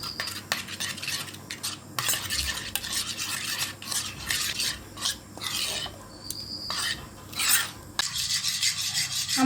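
Batter being stirred and mixed with salt and turmeric, a steady close scraping and rubbing of utensil against bowl in repeated strokes with brief pauses, no talking.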